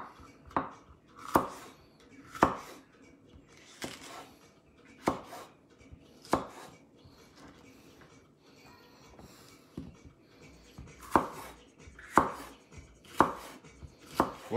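A knife chops vegetables into thin strips on a board, giving a series of crisp, regular thuds in short bursts with brief pauses, close and clear, with no speech.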